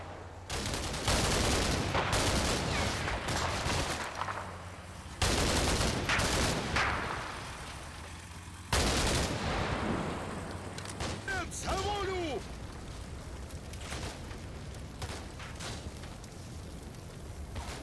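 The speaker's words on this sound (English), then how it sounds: "the autocannon on one of my BMPs makes very short work of the house where the RPG fire" A BMP's autocannon hammers a house in the war game Combat Mission: Black Sea, loud heavy bursts separated by pauses, followed by rumbling debris and scattered battle noise.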